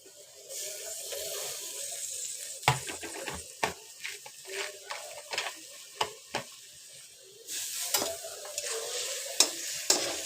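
Bitter gourd stirred and fried with fish in a pan for a korola ghata dish, giving a steady sizzle with repeated scraping stir strokes throughout, close and moderately loud.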